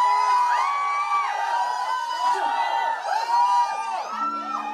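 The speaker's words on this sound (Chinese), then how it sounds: "既然大家举得那么踊跃，不如就用尖叫来。" An audience screams and cheers at a cowboy-movie-themed rock party, a loud, sustained crowd roar of high-pitched shrieks and whoops that rises and falls in waves for several seconds.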